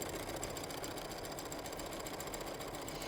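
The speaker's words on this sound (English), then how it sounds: "bring them to your sewing machine, and we're gonna just sew one together" A sewing machine runs steadily as it stitches quilt fabric pieces together, a close, fast, even mechanical whir with no talking.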